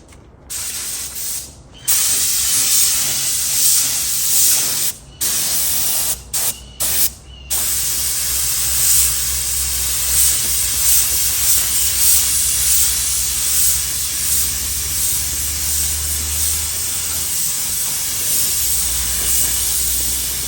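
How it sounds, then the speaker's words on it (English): A spray gun spraying cheap paint hisses in long, continuous bursts with a few brief pauses, then sprays steadily without stopping, loud and close. "But I'm gonna spray this cheap paint."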